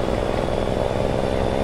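A truck engine from the Lope engine sound pack in a driving video game drones steadily and loudly throughout, with a constant low rumble and no pauses or talk.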